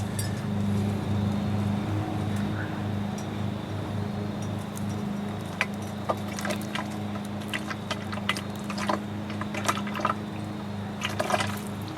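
CVT fluid poured through a funnel into a 2011 Nissan Altima transmission, a steady liquid gurgle and trickle with irregular splashy ticks, close by and continuous with no talking.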